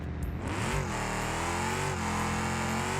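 A V8-swapped DMC DeLorean with a 4.5 litre V8 revs hard in the BeamNG driving game, a loud sustained engine roar with rising and falling pitch heard close and alone.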